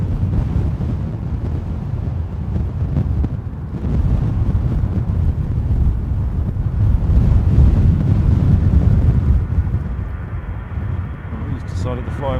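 An EasyJet Airbus A319 flies low and off the centre line straight overhead at Gatwick Airport in stormy weather, a steady loud roar mixed with heavy wind buffeting the microphone, while spotters talk nearby.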